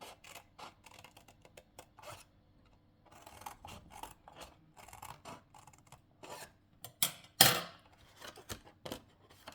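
A blade cuts through cardboard while making a box: quiet, close rasping and scraping strokes come in short irregular bursts, with a few sharper snips and one louder tear near the end.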